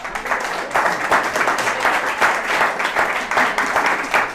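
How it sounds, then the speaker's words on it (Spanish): Audience applause at a bookstore book launch, steady dense clapping from a crowd, loud and sustained throughout with no talk over it. "lo despedimos con este fuerte aplauso"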